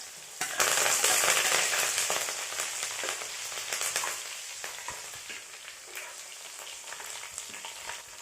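Garlic, cumin, mustard seeds and leaves hit hot oil in a sudden loud burst of close sizzling and spitting, settling into a steady crackle that fades slightly over several seconds.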